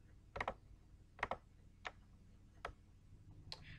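Soft computer keyboard typing while adding text to a PowerPoint slide, five isolated keystroke clicks spaced about half a second to a second apart, quiet and close with no talking.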